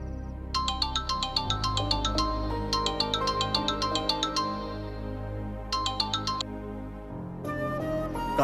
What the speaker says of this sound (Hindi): कायल, कब से फोन कर रहा हूँ तुम्हें, फोन क्यों नहीं उठा रही हो